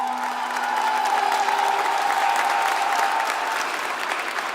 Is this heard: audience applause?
yes